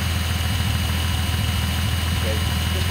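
A Datsun 280ZX turbo engine idles with a steady, loud low rumble and continuous mechanical hum, unchanging throughout.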